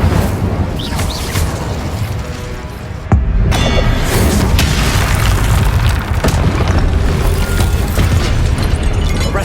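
An Incendio fire spell cast in the video game Hogwarts Legacy gives a loud, continuous roaring blast, with a sharp burst about a third of the way in followed by sustained booming, rumbling fire noise.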